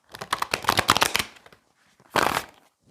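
Tarot cards shuffled close to a microphone, a long rapid riffle of papery flutters, then a pause and a second shorter burst of shuffling.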